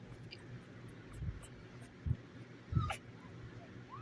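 Five-day-old newborn puppies, milk-fed and hand-reared, whimper and squeak faintly in a few short bursts over a quiet background, with a person speaking softly nearby.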